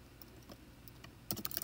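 Quiet, close computer keyboard typing while writing code, with a few sparse keystrokes and then a quick burst of keys near the end, no talking.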